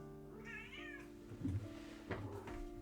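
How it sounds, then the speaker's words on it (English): A house cat gives a clear, close wavering meow, followed by a few soft knocks and shuffles nearby. "Why are you meowing?"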